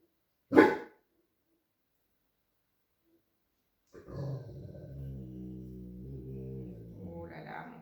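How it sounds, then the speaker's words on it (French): A single sharp bark rings out, followed by silence, then a person talks at close range. "mon chien a entendu un autre chien aboyer"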